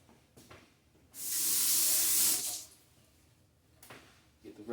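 A short burst of water sprays from a faucet for about a second and a half as a tool is rinsed after cutting herbs, with quiet handling noises before and after.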